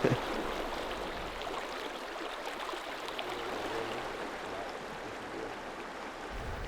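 A river swollen and blown out by eight hours of heavy rain in remote wilderness, rushing with a steady, faint broadband wash of flowing water and no voices.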